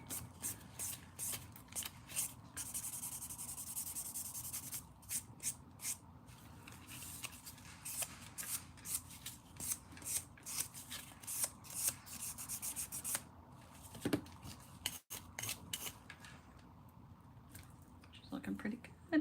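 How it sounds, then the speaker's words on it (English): A nail file rasping back and forth while filing and shaping a fingernail, quick rhythmic strokes close up with short breaks, and voices in the background. "So filing is definitely, I would say, the more time-consuming part of doing nails."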